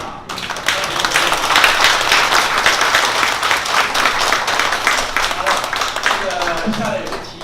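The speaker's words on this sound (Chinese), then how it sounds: "我们踊跃的掌声" An audience at a Harvard lecture hall applauds with dense, sustained clapping close by that keeps an even level for several seconds and then thins out at the end.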